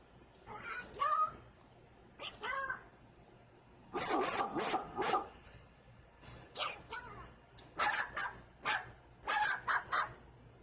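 A toy dog in a store gives repeated short electronic barks in bursts, fairly close and clear, with brief pauses between them and a voice speaking faintly in the background.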